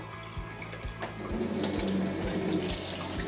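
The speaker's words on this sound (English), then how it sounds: "So start off by putting in some hot water," Hot water runs steadily from a tap into the detergent drawer of a Hotpoint Aquarius washing machine, a continuous close splashing hiss that grows fuller partway through, with no voices.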